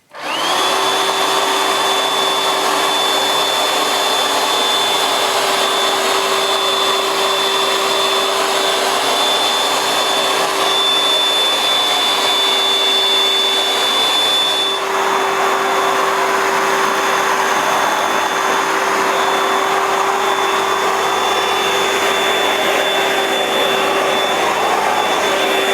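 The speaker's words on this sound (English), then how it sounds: "I'll just pass the Shark Stik vac through the centre of this muck on the carpet setting" Shark Stik cordless vacuum cleaner running on its carpet setting over debris on carpet, a continuous loud whirring motor drone with a steady high whine, unbroken throughout with a slight change in tone midway.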